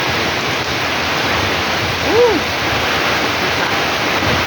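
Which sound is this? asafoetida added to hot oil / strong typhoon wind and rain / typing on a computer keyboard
strong typhoon wind and rain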